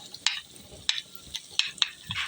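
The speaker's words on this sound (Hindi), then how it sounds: "टमाटरों को भी हम अच्छे तरीके से गलाएंगे, थोड़ा मिक्स कर लेंगे।" Tomatoes in masala stirred in a pan, with several scraping spoon strokes at an irregular rhythm over a faint sizzle, close by and without talk.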